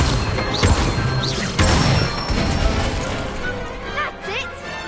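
Incendio fire spell cast in Hogwarts Legacy, loud crashing bursts with whooshing impacts repeating across a few seconds, accompanied by a voice calling out the spell and other spell effects.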